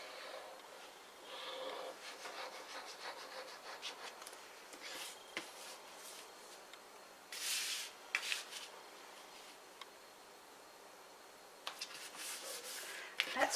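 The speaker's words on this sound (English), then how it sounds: "Got a little bit of fluff along that edge too, so I'm just going to rub that off." A fingertip rubs loose fluff off the edge of a stamped paper card in short, soft scratchy strokes, close and quiet, arriving in intermittent bursts with pauses between them.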